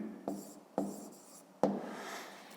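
Pen or chalk strokes write out a math solution, three short scratchy bursts each trailing off, close and quiet with no talking.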